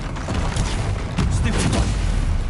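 Confringo spell blasts in Hogwarts Legacy fire repeatedly as a steady stream of booming, crackling impacts, loud and dense over busy combat noise and music, with speech mixed in.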